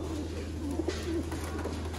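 Pigeons, a red-eyed breeding pair among fancier's birds, give a few soft, low coos over a steady low hum, fairly close and quiet, with no talk.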